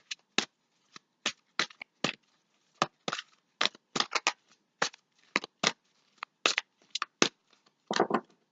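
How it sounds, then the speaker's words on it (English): Angel tarot cards are shuffled by hand and drawn from the deck in a string of crisp, close riffling snaps and slaps, sharp bursts separated by short quiet gaps, with no voice. "So I'm gonna pull out some Angel cards for you."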